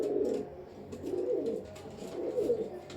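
Pigeons coo in repeated low, throaty rolling phrases, close and fairly clear, about three bursts over a few seconds with soft background noise.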